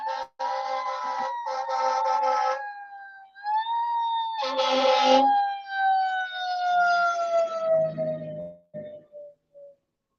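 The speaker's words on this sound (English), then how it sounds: "That's a fire truck." A fire truck siren wails and sweeps in pitch as it passes a car on an evening drive, loud with bursts of blaring tone, then fading off with a few short toots at the end; nobody speaks.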